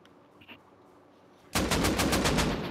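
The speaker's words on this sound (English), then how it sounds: "I was shooting at a wall." Rapid automatic gunfire in a video game, sprayed at a wall, erupting suddenly after a quiet stretch and continuing as a loud, steady burst of shots.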